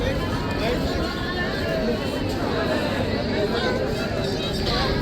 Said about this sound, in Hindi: आजकल देखो बद्रीनाथ धाम में कितनी भीड़ है भाई